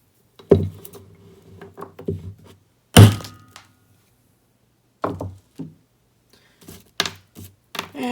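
Hammer blows strike an object frozen in liquid nitrogen: a series of sharp, dry thunks and knocks, one especially loud crack, separated by short silences.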